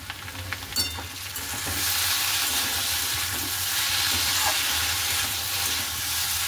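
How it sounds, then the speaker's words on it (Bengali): Parathas frying in a little oil on a flat griddle give a steady, close hiss that swells after a brief clatter and then holds even and loud, with no talking. "তো ভেজে নিই পরোটাগুলো"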